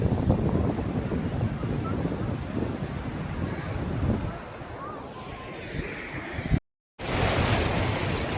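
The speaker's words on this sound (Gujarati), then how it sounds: "પૂર જોશથી આ નદી વહી રહી છે" A swollen village river in flood rushes steadily under rainy, unsettled weather, producing loud, continuous water roar mixed with heavy wind buffeting against the microphone, briefly cutting out near the end before resuming.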